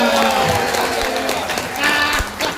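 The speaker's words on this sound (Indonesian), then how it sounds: "Tepuk tangan yang mulia." An audience at a church seminar gives a short burst of applause, with clapping mixed with voices and some tonal sound in the hall.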